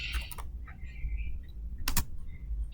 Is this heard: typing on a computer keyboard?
yes